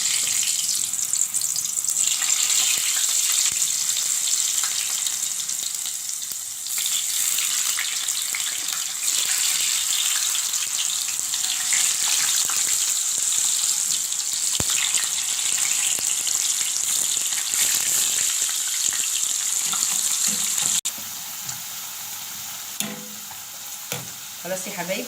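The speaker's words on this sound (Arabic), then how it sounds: "سامعين صوت القرمشه؟" Potato chips frying in hot oil give a loud, steady crackling sizzle that runs close up and continuous, easing slightly near the end.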